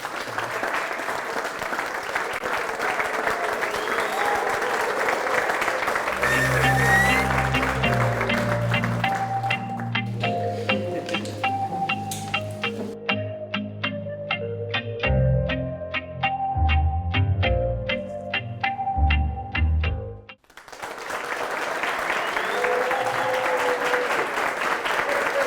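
A studio audience on a Kenyan talk show applauds at length, with a loud, steady wash of clapping at the start and again at the end, broken in the middle by a musical jingle with echoing, processed tones.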